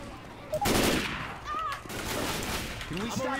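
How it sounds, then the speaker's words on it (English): Gunfire bursts in Left 4 Dead 2, with loud shots and rapid volleys mixed with game effects and zombie noises, mid-loud and close. "Stop shooting me"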